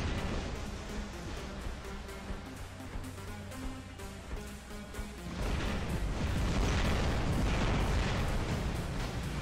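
A Hell Drive explosion from a Spectre robot in the War Robots video game: a loud, deep, sustained blast erupts midway, breaking over layered game music and tones and roaring on to the end.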